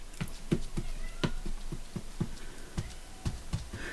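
A cat cries insistently to be let in, with repeated loud meows and yowls in a steady, close rhythm over a faint background.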